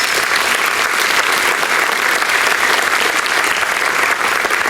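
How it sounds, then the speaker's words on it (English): A reunion banquet audience gives student athletes from a cross country team a round of applause: sustained, even clapping from many hands, loud and continuous from start to finish. "Please give them a round of applause"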